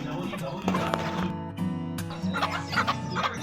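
Chicks feed and cluck in a backyard brooder at night, soft peeps and clucks scattered over a constant low hum, with a person talking faintly in the background.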